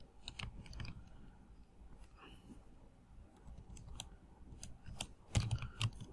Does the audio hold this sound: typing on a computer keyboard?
yes